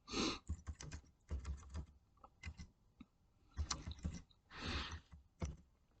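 Fingers tap on a computer keyboard in irregular clusters of quiet, close keystrokes with short pauses between bursts.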